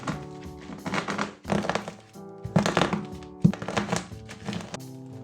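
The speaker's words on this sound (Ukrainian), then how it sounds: "Такий приємний звук, як ламається арахіс, і ще печивко смачно хрускотить" Crunchy cracking and crushing sounds in irregular bursts, close up, as peanuts and biscuits are crushed, with no talking.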